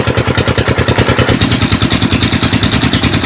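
A tubewell pump motor runs to water crops in rural Faisalabad, thumping in a fast, even rhythmic chug with clattering overtones, loud and close, with no talk over it.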